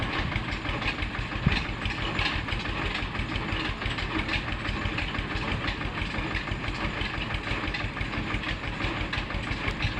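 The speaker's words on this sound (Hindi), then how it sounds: "देख लीजिए हमारे गांव में आया है ट्रैक्टर।" A tractor engine runs steadily in a village, its fast, even diesel chugging loud and close throughout with no break in the rhythm.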